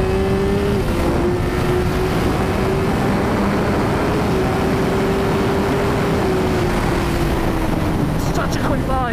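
Suzuki motorcycle on a race track, its engine a loud steady drone with a sustained pitch that slowly falls, heavy wind rush over the microphone throughout, and speech faintly present underneath.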